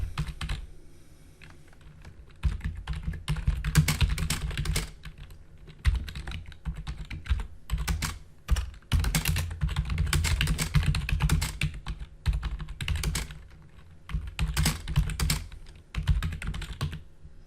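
Rapid clicking keystrokes on a computer keyboard come in bursts of fast typing separated by short pauses, close and crisp.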